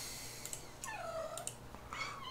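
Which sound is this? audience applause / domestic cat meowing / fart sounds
domestic cat meowing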